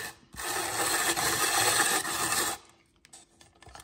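Carrots rubbed against a grater, a dense rasping scrape lasting a couple of seconds before stopping abruptly, followed by a few faint light knocks.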